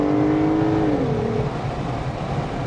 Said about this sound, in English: All right, I'm going to accelerate.